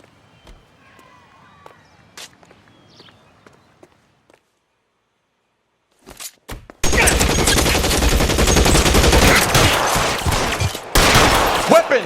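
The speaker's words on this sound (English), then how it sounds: "Shots fired." Sustained gunfire from a police shootout in the video game L.A. Noire, a dense, loud fusillade of rapid shots that starts after a few sparse footsteps and faint sounds, with a brief pause before the shooting resumes.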